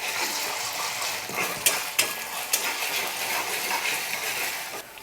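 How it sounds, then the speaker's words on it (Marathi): Ginger garlic paste sizzles in hot oil in a pan, a steady loud hiss broken by a few sharp clinks of a spoon against the metal. "त्याच्यामध्ये ना अद्रक लसणची पेस्ट टाकायची एक चमचा आणि त्याला देखील एक मिनिटभर आपल्याला फ्राय करून घ्यायचं"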